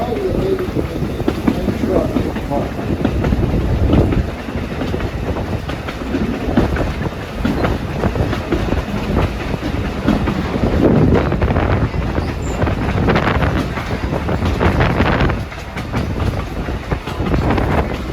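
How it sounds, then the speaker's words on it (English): Wheels of a tourist train in the autumn Pocono Mountains clatter rhythmically over jointed rail beside the Lehigh River, a loud, close, continuous rumble with repeated clickety-clack beats and wind buffeting the microphone. "Jointed rail and the clickety-clack of the wheels."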